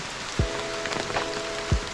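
Rain falling on a lanzones farm: a quiet, steady hiss of drizzle with two heavier drop thuds standing out from the soft background.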